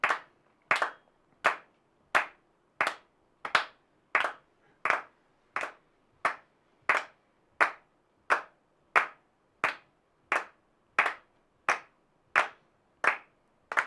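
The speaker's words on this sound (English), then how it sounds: "Keep clapping." Hands clap a steady, evenly spaced beat, about twenty sharp claps over roughly fourteen seconds, close and alone with no talking.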